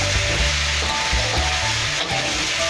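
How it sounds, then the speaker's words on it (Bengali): Taro sizzles loudly in a pan with spices, frying close up in a dense, unbroken hiss, with low clattering stirs and no voices. "আমি কচুটা মশলা দিয়ে ভালো করে কষে নেব।"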